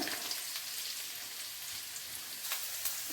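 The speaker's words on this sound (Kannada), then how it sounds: "ಬೀನ್ಸ್ ಫಸ್ಟ್ ಹಾಕ್ಬೇಕು ಎಣ್ಣೆ ಒಳಗನ" Green beans fry in oil for a fried rice dish, giving a soft, steady crackling sizzle with light popping that stays faint and continuous throughout.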